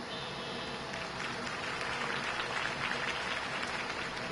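A crowd applauds a campaign speech in the Batman Telltale video game with a broad, even wash of clapping at low level, steady throughout.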